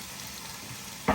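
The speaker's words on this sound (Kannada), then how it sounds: "ಸ್ವಲ್ಪ ಹೊತ್ತು ಫ್ರೈ ಆಗಲಿ. ನೀರುಳ್ಳಿ ಕೆಂಪಾಗಿತ್ತಿಲ್ಲ, ಸ್ವಲ್ಪ ಫ್ರೈ ಆಗಿದ್ರೆ ಆಯಿತು." Onions frying in a pan, a steady soft sizzle with a brief louder clatter at the very end.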